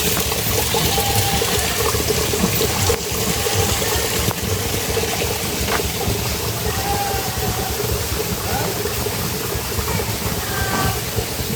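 Small stream flowing in front of a village house, a steady broadband wash of water running continuously at moderate distance, with faint background hum and no talking.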